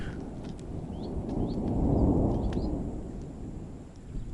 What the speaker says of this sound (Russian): А там, да, громыхает вот за этой горой.